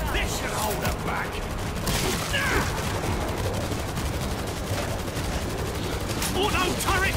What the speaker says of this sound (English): Got an auto turret! This should hold them back!